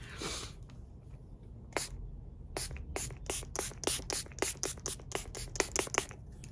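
A fine mist spray pumped in quick bursts: one short spritz, then a rapid run of about a dozen sharp, close hisses in an uneven rhythm.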